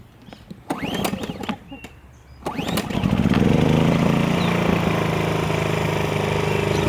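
Ryobi RYi2200 inverter generator pulled to start: a few rapid rope pulls and sputters, then the engine catches and settles into a steady, fairly quiet hum nearby.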